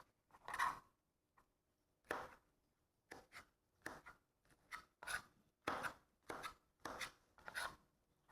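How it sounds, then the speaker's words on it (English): A knife dicing peeled mangoes into small pieces on a board, about ten crisp separate cuts in an uneven rhythm, close and quiet with no talk. "Now I'm going to go chop up some mangoes."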